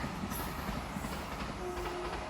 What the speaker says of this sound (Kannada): ರೈಲು ಬಂತು ರೈಲು ಬಂತು ರೈಲು ಬಂತು